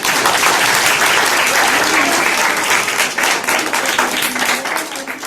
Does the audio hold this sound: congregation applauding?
yes